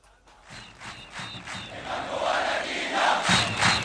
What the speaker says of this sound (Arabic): بص بقى الجمهور، طب علي لي كده الهتاف ده.